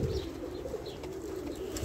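Pigeons cooing near a pigeon loft, a soft low steady coo repeating throughout under faint background noise.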